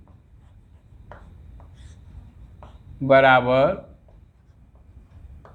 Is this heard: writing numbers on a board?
yes